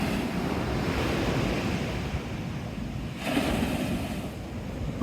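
Sea waves breaking on the shore at Teignmouth, a continuous loud rushing roar of surf mixed with gusty wind buffeting the microphone, with a fresh wave surge swelling near the end.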